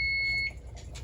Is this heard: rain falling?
no